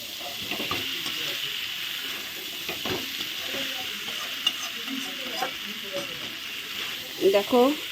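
Cauliflower masala sautéed and stirred in a pan, a steady frying sizzle with scraping stirs throughout, a brief voice near the end.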